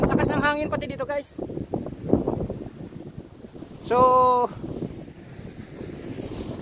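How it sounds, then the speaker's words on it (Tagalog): Strong wind buffeting the microphone on the Guam coast, rough gusty rumble with waves, under someone talking excitedly in Tagalog and English. "Lakas ng hangin pati dito, guys."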